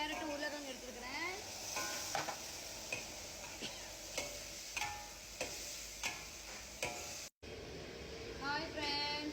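Tomatoes and vegetables for mutton kurma sautéing in a pan, a steady sizzle marked by regular tapping stirs about once a second, with a voice speaking faintly underneath.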